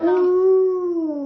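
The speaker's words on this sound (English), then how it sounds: "You whisper bark. You go woof." A dog gives a single soft, drawn-out vocal woof on cue, a smooth tonal whine-like call lasting about a second that slowly falls in pitch at the end, close and clear, with no talk over it.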